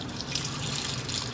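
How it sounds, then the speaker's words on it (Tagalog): Water streams steadily into a bowl as dough is prepared for kneading. The pour is close and continuous, with no talk over it. "Maglagay tayo ng tubig mga kabiker, 125 mga kabiker or 150 grams."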